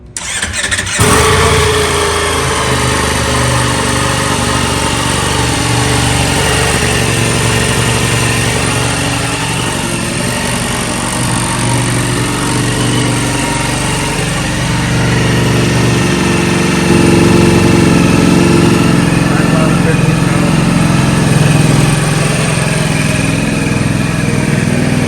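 A new Ducati V4 sport motorcycle engine cranks and fires up, then holds a loud, steady, rough idle that rises slightly near the end, close by and with no talk.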